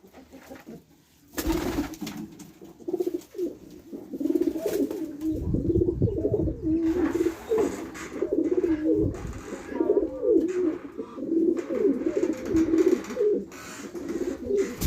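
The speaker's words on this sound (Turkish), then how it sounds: "Burada kuşlarımız var. Bunlar baladır." Pigeons coo again and again in a soft, throaty rolling rhythm, close by and fairly loud. A short burst of rustling or flapping comes early on, and no one speaks.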